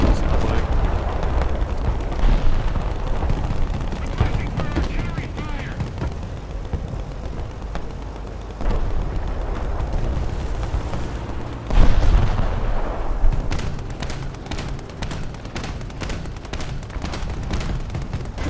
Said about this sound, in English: His cannon's kind of cool. He's got a bow for his cannon, it sounds like.